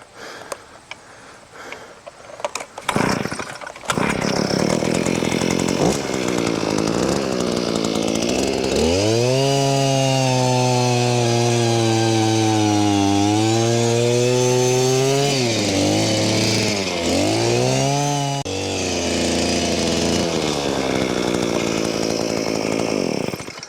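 A one-man gas-powered post hole auger digs a drywell, its small two-stroke engine droning loudly and close, bogging down and recovering under load, then dropping back to a rough idle.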